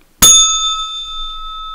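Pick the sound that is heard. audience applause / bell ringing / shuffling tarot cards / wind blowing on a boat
bell ringing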